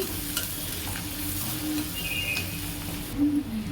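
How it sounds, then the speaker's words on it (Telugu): Chopped onions and green chillies fry in a pan with a steady, moderately quiet sizzle and crackle throughout, a few faint clinks of stirring scattered over it, and nobody speaking. "చూసారు కదా, ఆనియన్ పచ్చిమిర్చి అయితే వేగుతుంది."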